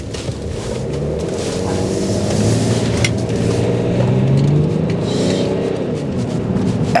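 A modified seven-seat BMW X5 SUV with a Darkside Developments tune accelerates hard. Its engine note climbs and drones under road and wind noise inside the cabin, with no speech.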